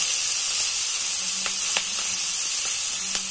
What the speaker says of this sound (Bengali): পেঁয়াজ আর লঙ্কা একসাথে দিয়ে দিলাম।